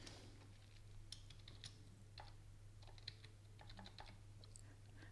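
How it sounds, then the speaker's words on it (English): Quiet typing on a computer keyboard, with a steady patter of light key clicks in short irregular bursts over a low steady hum. "So I'm going to type in tobacco"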